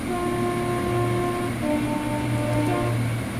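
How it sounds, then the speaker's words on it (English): Class 222 Meridian diesel unit motoring along at speed in Train Simulator Classic, a steady rumbling drone with sustained engine tones held throughout, alone and unbroken. "Does sound really nice, this train, as we motor along."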